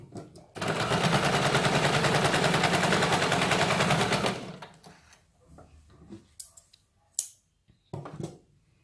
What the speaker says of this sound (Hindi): यहाँ पे हमें इसके ऊपर ये डबल सिलाई लगानी है।